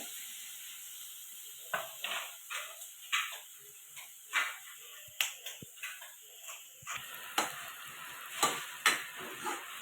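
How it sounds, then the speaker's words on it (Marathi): Onions crackle and sizzle in hot oil, with frequent stirring clinks and scrapes at an irregular rhythm over a steady hiss. "कांदा जरासा तांबूस होईपर्यंत तेलात परतून घ्यायचं आहे"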